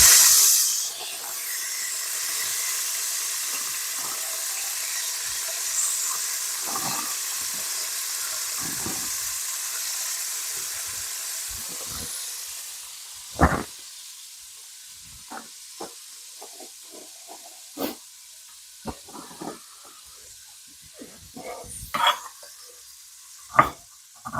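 Peppers hitting a hot pan for Caribbean-Chinese sticky pork ribs give a loud, steady hiss and sizzle that fades after about thirteen seconds into quieter crackling, broken by scattered sharp clinks and scrapes of stirring.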